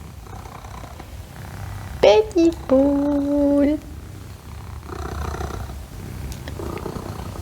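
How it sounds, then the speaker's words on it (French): A small cat purrs indoors, a low, soft, continuous rumble that runs beneath someone speaking affectionately to it in French. "Je sais pas si vous l'entendez ronronner."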